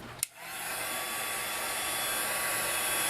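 Embossing heat tool blowing hot air to melt embossing powder on a paper craft flower, a steady broadband whoosh that switches on after a brief click and holds loud and constant.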